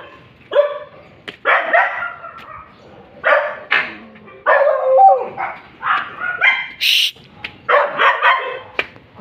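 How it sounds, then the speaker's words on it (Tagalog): Several dogs barking, yipping and whimpering in short, irregular bursts, close and fairly loud, with quiet gaps between the outbursts. "Kaya maingay yung aso ko kasi mayroong aso doon."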